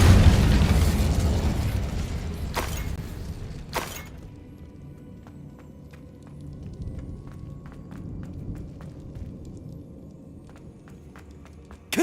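The Incendio fire spell bursts in a Harry Potter video game with a loud whooshing blast that fades into crackling, followed by scattered pops and light footstep-like taps; no talking.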